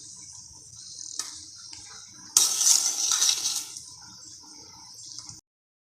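Pepper being stirred into coconut rice in a pot: faint metallic scraping and clinking of a spoon, with a louder, busier stretch of stirring in the middle before it stops abruptly.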